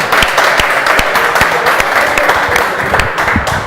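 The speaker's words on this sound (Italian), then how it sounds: "fa un applauso" A studio audience claps loudly for a Neapolitan neomelodic singer on a television special, brisk close applause with sharp individual claps standing out, and no talk over it.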